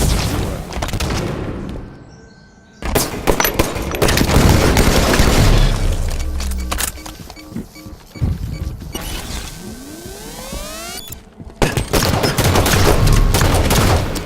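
Rapid volleys of gunfire at a night shooting competition, loud and dense bursts with brief pauses between strings of shots, ringing booms and mechanical clatter filling the scene.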